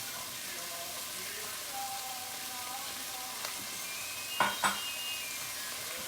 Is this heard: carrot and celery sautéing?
yes